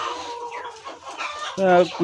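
White layer hens clucking in a poultry house, a run of soft close calls that ends in one louder, drawn-out squawk.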